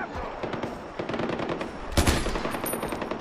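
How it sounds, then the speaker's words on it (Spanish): Rapid automatic gunfire in the Far Cry 4 video game, a steady stream of quick shots for several seconds with a louder burst near the end, no voices over it. "¿Quién me está disparando?"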